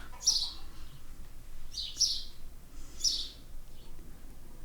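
Birds chirp outdoors in a rural farm setting, three short bright calls spaced about a second apart over a faint background hum.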